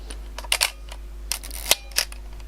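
A Praktica BX20 film SLR camera fires its shutter, giving several sharp mechanical clicks and clacks close up, with quiet handling in between.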